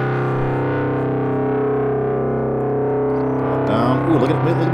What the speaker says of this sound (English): Now, super harmonics. It's called BuzzClip.